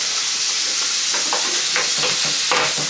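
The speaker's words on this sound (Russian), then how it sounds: "Добавляем в масло наш чеснок." Crushed unpeeled garlic added to hot oil in a pan while pork cooks: a loud, continuous close sizzle and crackle with stirring scrapes and small pops throughout.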